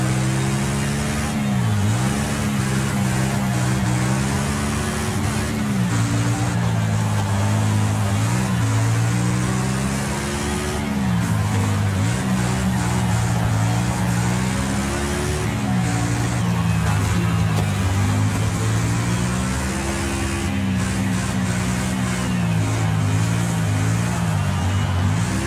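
A car engine while driving in the Wreckfest racing game, loud and continuous, its pitch rising and dipping repeatedly as the throttle revs up and backs off throughout.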